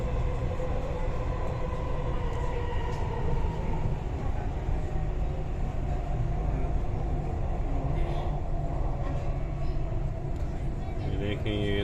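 A Dubai Metro train running toward Jebel Ali station, a steady loud rumble and rolling hum with a rising whine near the end, heard from inside the car with talk over it.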